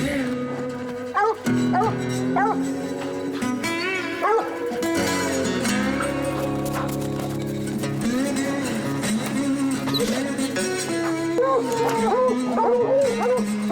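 Hunting dogs bay and yelp on a trail in the Rocky Mountains, their voices mixed with a long, blaring musical tone that nearly masks them.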